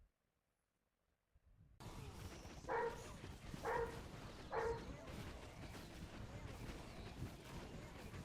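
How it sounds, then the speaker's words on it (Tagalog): A dog barks three times in quick succession, sharp and fairly close. The barks ride over a constant low background din that starts after a moment of silence. "yung aso ko, grabe. Sobrang ingay. Hindi mapigilan yung tahol"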